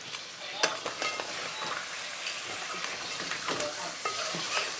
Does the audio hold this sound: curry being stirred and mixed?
yes